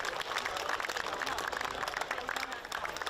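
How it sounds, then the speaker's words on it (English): Crowd applause after a local football match, a dense steady patter of many hands clapping at a moderate distance, with a voice talking faintly over it. "both teams a great round of applause for a really well played game."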